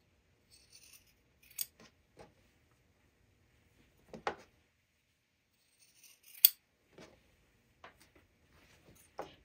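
Scissors snip fabric darts on cotton bowl-cozy pieces, making a few quiet, separate cuts with small rustles in between, close and alone with no talk.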